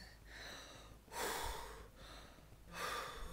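A woman in labour takes slow, deep breaths to relax through a contraction, two long breathy inhale-exhale cycles heard up close, soft and airy, with no talking.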